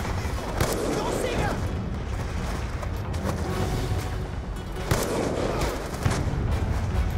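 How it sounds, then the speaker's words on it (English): Gunfire crackles in a Call of Duty Black Ops 2 campaign battle, with repeated loud sharp shots and booms over dense battlefield noise, while voices speak intermittently. "A little sniper fire."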